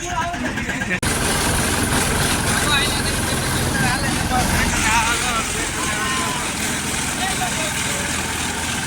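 A push-started car engine runs at a steady idle, a continuous mid-pitched rumble heard close up, with people talking over it.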